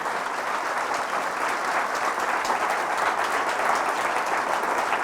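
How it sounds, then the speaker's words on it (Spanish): Sustained, dense applause fills a church as the congregation claps loudly and steadily throughout, with no voices standing out. "Fuertes aplausos, Rey de Reyes"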